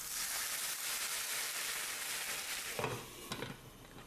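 Scallops and beans fry in a pan with a faint, continuous hissing sizzle, and a few soft clinks and scrapes come near the end.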